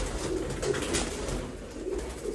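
Pigeons from a keeper's flock coo in a steady stream of soft, repeated low calls, close by and continuous against faint background noise.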